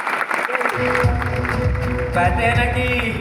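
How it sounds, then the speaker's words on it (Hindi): Audience applause at a direct selling event, a burst of clapping from a crowd that swells and holds steadily, with someone speaking over it. "एक जोरदार ताली।"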